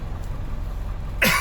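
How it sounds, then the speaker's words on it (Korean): A single sharp cough with a throat-clearing rasp near the end, close and loud after a low, steady air-conditioner hum. "헛기침 난다"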